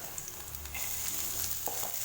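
Green chillies sautéing lightly in hot oil with fennel seeds, a soft continuous hiss of frying that grows slightly louder partway through, close and faint, with no speech.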